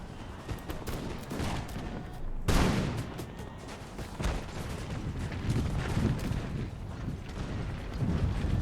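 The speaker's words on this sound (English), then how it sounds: "This next volley should be a lot more like the execution shot we're looking for." A Total War infantry line firing musket volleys, a dense crackling burst of shots with a sharp loud cluster early on, then scattered firing at will over a rumbling battle backdrop, no talking.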